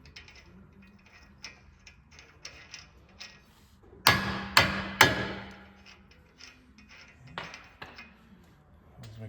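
Three sharp metallic hammer blows on an Acura RSX race car axle ring out in quick succession mid-clip, surrounded by lighter clicking and mechanical tapping, close and loud.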